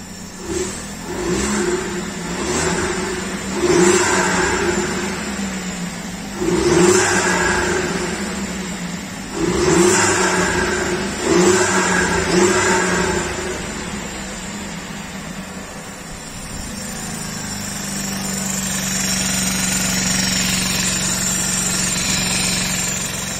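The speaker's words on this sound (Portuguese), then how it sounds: "Deixa eu dar uma aceleradinha para eu ouvir o barulho do escapamento." A Volkswagen Up TSI fitted with a hybrid turbo revs hard again and again, each throaty blast through the exhaust rising then dropping back, before settling into a steady rumbling idle.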